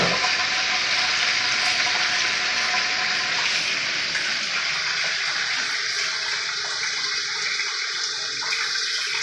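Chicken pieces frying in a pan, a steady broadband sizzle that holds loud and continuous throughout, with no voices.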